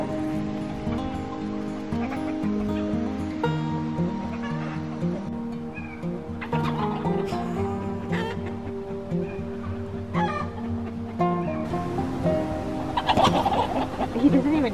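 Chickens cluck and murmur steadily close by while soft rain patters in the background. No one is speaking.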